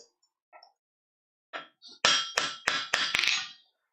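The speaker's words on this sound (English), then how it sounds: "So I'll go through the first time through and just do some hammering and chamfering and things like that" Hammer striking metal at a forge: a few light taps, then five sharp, ringing blows in a quick, fairly even rhythm, loud and close, with no talking.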